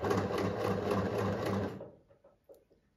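A Pfaff Select 2.0 sewing machine runs at a steady, rapid stitching rhythm for nearly two seconds, close and loud, then stops, leaving a few faint handling clicks and taps.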